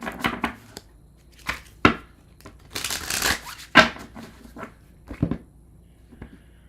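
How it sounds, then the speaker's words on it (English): Tarot cards being shuffled by hand, a series of separate close riffles and papery slaps in irregular bursts with quiet gaps between them. "Only like 3 more decks to shuffle."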